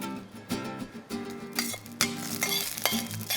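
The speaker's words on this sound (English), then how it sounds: "we're going to add some shredded coconut to this. This will cook very quickly," Shredded coconut stirred and fried in a pan for a prawn curry, with a steady crackling sizzle and repeated scraping and clinking of a utensil against the pan, close and moderately loud.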